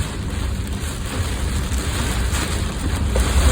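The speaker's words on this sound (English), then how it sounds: "Oh, we got high winds here" Strong high winds buffet the microphone, giving a continuous roaring rush that swells slightly toward the end, heard from inside or beside a moving vehicle on a country road with no voices.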